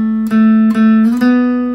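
Guitar plays a short piece of a riff, several plucked notes with a slide up the neck, close and clear, the notes ringing into one another with no voice present.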